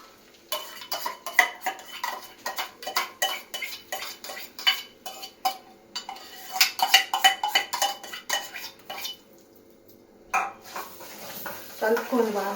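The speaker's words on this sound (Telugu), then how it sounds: "ఆనియన్ పేస్ట్ ఉంది కదా, అది మనం తయారు చేసుకొని ఆ పేస్ట్ ఇందులో వేసుకొని" Onion paste being stirred into a pan of oil with a metal spoon for restaurant-style palak paneer, a steady run of close, loud scraping and clinking strokes with brief pauses and a faint sizzle.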